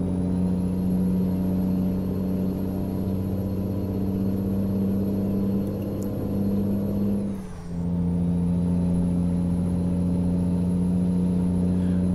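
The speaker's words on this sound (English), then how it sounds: "Waking up all the people in these country houses with my crazy loud exhaust." Truck with a loud exhaust in Euro Truck Simulator 2, driving along Scandinavian roads with a steady, close, droning engine rumble and a brief dip midway, no voices.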